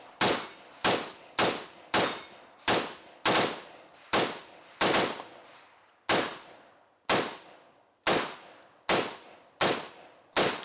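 Rifle shots at a 2-gun match, with some shots doubling up. About eighteen loud, sharp reports ring out in a steady rhythm with short decays, some in quick pairs, and a few metallic target clangs.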